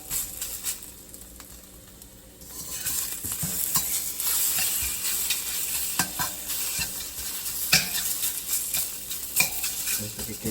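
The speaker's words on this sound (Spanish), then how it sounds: "Esperar que se sofríen los camarones, que realmente el camarón y el pollo siempre están muy rápido." Shrimp and chicken fry in a hot pan for chow mein, a steady loud sizzle broken by repeated scraping and clattering stirs of a utensil against the metal.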